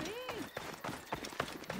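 A galloping horse in the game Assassin's Creed Origins, with quick uneven hoof beats mixed with game voices and effects over a short burst.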